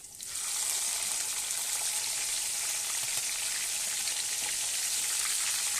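Green chilies fry in hot oil with garlic, giving a steady bright sizzle that starts suddenly and holds at an even, fairly loud level throughout with no talking.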